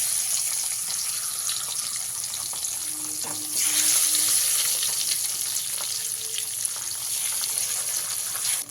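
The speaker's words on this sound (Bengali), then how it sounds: "কাকি মাছগুলোকে এইভাবে আমি স্টেপ বাই স্টেপ ভেজে নেব" Pabda fish sizzle steadily in hot oil in a pan, a loud, continuous, close frying hiss with a brief surge partway through and occasional faint crackles, no voices.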